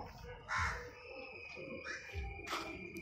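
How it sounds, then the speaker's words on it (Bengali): Birds call at dusk in a quiet South Kolkata neighbourhood, with a few distant hooting and cawing notes spaced through the stillness. Soft wind and low ambient noise sit beneath them. "তোমরা হয়তো পাখিদের ডাকও শুনতে পাচ্ছ"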